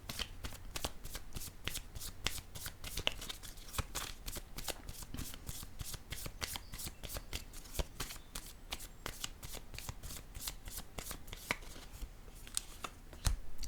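Tarot cards shuffled in a fast, steady riffle of crisp flicks running continuously and close up, with a soft tap as a card is laid down near the end.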